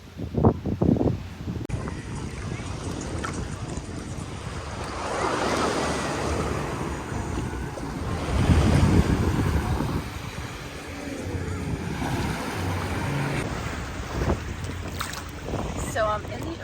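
Ocean surf at a sunny Punta Cana beach, waves washing and breaking close by in rolling surges, mixed with gusty wind noise buffeting the microphone.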